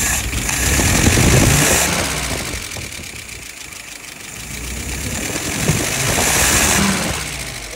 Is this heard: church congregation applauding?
no